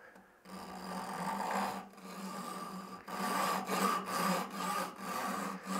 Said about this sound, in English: I'm going to use my Japanese back saw here.